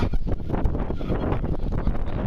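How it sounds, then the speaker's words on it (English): Strong wind gusts across an open farm field during metal detecting, buffeting the microphone with a constant roaring rumble and flutter. The sound stays loud and unbroken throughout, and no one speaks. "You can't tell which way the wind's coming from."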